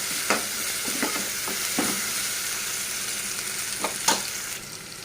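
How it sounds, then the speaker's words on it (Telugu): Ginger garlic paste sizzles in a pan for a vegetable curry, with a steady close frying hiss and a few sharp scraping stirs scattered across it. "కొద్దిగా అల్లం వెల్లుల్లి పేస్ట్ని కూడా యాడ్ చేసి అల్లం వెల్లుల్లి పేస్ట్లో ఉన్న పచ్చివాసన పోయేంత వరకు దాన్ని కూడా ఒక నిమిషం వేయించుకోవాలి"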